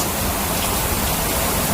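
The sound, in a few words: rain falling at a marina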